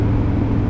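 Heavy truck rumbling past on a road, a loud, steady low drone of engine and tyre noise close by, with no talk over it.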